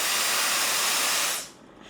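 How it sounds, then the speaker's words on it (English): A Neakasa vacuum steamer for clothing gives off a loud, steady close hiss of steam that cuts off sharply after about a second and a half, leaving a faint residual hiss. "So the steam is still coming out."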